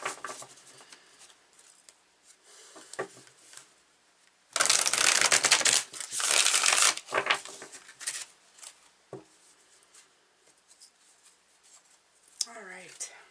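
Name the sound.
tarot cards being handled and shuffled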